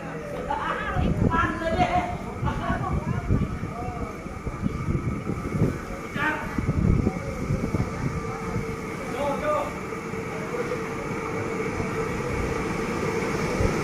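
A long-distance train rumbles and clatters through Ratchaburi railway station in Thailand with rhythmic wheel knocks, while people talk nearby over the steady background din.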